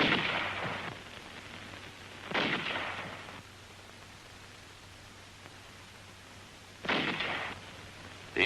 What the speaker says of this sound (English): the highly mobile 75mm pack howitzers delivered continuous fire to the north